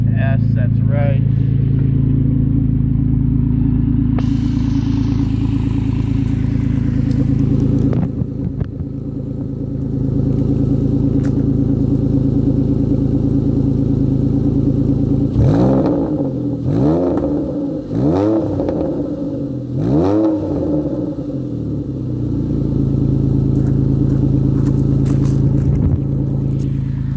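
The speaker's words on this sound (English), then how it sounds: "I just wanted to let you hear that exhaust note." A 2006 Porsche 911 Carrera S idling close by with a deep, steady exhaust rumble, then several quick revs in a row that rise and fall before it settles back to idle; someone speaks briefly near the start.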